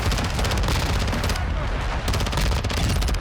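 Dense, continuous submachine gun fire from a VEL-46 SMG in the Modern Warfare video game, loud rapid bursts running almost without pause, with one brief gap before the rattling resumes.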